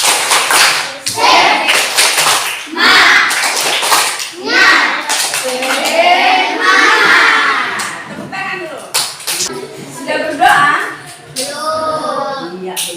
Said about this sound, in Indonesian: Ayo, kita sama-sama tepuk semangat dulu